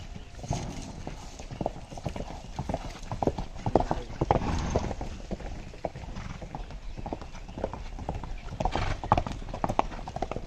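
Hooves of a desi horse clip-clop steadily across a show jumping training ground, a rapid irregular beat of footfalls heard close, with occasional brief louder thuds and faint voices in the background.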